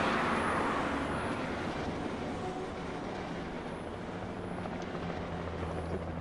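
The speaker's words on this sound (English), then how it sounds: "Helicopter's back." A helicopter's steady rotor drone in the video game Alan Wake fills the scene, a constant low throbbing rumble with broadband wash, loud and close throughout, no voices.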